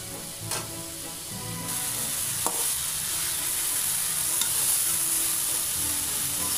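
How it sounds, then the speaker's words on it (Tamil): Tomatoes sauté in a pan with a continuous soft frying hiss, punctuated by a couple of sharp spoon taps and scraping stirs against the metal. "தக்காளி நல்லா சாஃப்ட் ஆகுற வரைக்கும் நல்லா வதங்கட்டும்"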